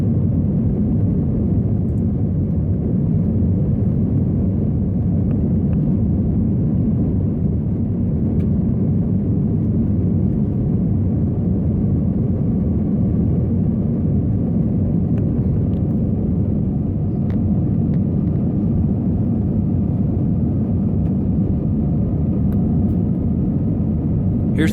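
Steady, loud low-frequency cabin roar fills an airliner climbing out after take-off from Charlotte Douglas International Airport as it turns west, an unbroken engine and airflow rumble with faint rattles and no talking.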